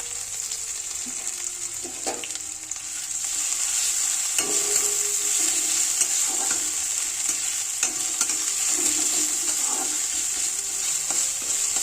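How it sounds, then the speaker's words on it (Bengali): Ginger, green chilli and panch phoron fry in hot oil in a kadai with a constant loud sizzle, broken by occasional stirring scrapes of the spatula. "গ্রেট করে রাখা আদা আর কাঁচা লঙ্কা কুচি দিয়ে আর একটু ভালো করে ভেজে নিয়ে"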